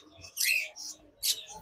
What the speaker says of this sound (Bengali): এখানে লাভবার্ড পাখি রয়েছে